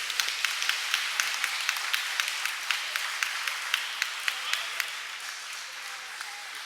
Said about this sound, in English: Crowd gives a nice cheer for Michael Brant